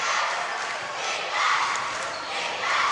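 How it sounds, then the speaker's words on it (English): Girls' basketball crowd at a Mercy versus Wilton game chanting a defense cry, a steady swelling roar of many voices from the stands, continuous and fairly loud, with an announcer's voice mixed faintly in. "with a cry of defense from the Mercy crowd"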